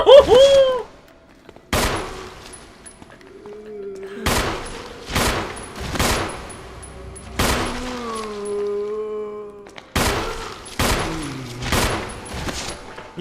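Handgun fire in Resident Evil HD, a series of loud, separate shots spaced about a second apart, each with a short echoing tail, broken by quieter in-game sounds between bursts.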